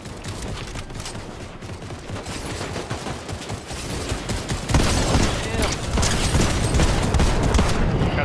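Dense, continuous gunfire from a multiplayer shooter game, with rapid overlapping shots and bursts that grow louder about halfway through. Players talk over the shooting at times.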